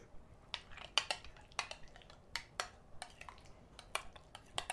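A spoon stirring cilantro into lime sour cream in a bowl, giving soft scattered clinks and scrapes against the dish, close and fairly quiet with no talking.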